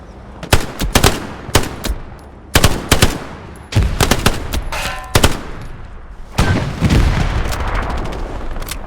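Gunfire in the World War II shooter Hell Let Loose on the El Alamein desert map: repeated loud, close bursts of rifle and machine-gun fire in irregular volleys, with sharp cracks over a rumbling battlefield background.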